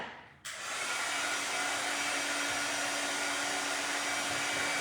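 A hair dryer switches on abruptly after a brief near-silence and then blows with a steady, even roar while drying a painted Santa craft, with no talk.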